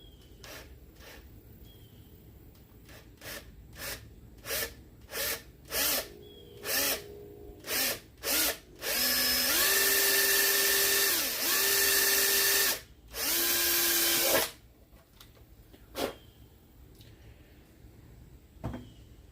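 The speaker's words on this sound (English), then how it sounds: "once you drill a hole, that's it, it's there." A power drill bores holes for color-matched 6.5-inch speaker pods, with a run of short trigger bursts followed by three longer, loud whining drill runs, then a few more brief bursts close by.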